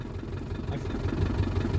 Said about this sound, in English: Man, I can't believe how well it's idling.